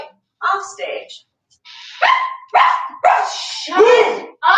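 A voice imitates a dog barking offstage during a staged play reading, giving a series of loud, close yelps and barks in irregular bursts.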